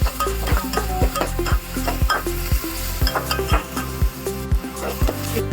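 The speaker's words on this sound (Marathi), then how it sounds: "तुपामध्ये तेल टाकून तेल गरम झाल्यावरती त्यामध्ये लसूण, त्यानंतर जिरा राई, त्यानंतर कांदा हे सगळं मिक्स करून घ्यायचं" Garlic, cumin, mustard seeds and onion fry in ghee and oil for dal khichdi. A spoon strikes the pan in a regular, quick rhythm over a constant close sizzle.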